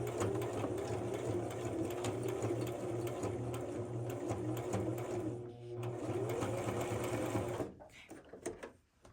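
A sewing machine runs in a long continuous burst while double stitching the waist of a garment, a steady mechanical whir close by that stops near the end, followed by light handling noise.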